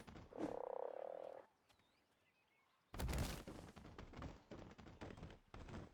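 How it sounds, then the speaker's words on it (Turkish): Frogs croaking in the video game Ark: Survival Evolved: a loud sustained croak, a near-silent gap, then a dense run of rapid, rattling croaks close up. "Çık çık kurbağa, çık çık kurbağa."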